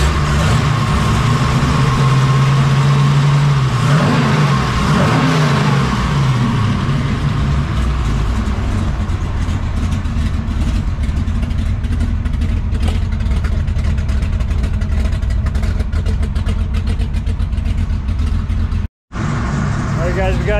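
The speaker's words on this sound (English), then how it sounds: "Still idling down a little bit." A 1969 Camaro pro-touring restomod's V8 idles warm after the fan has cycled, a loud, steady, close rumble with a brief dip in engine speed early on and a short cut near the end.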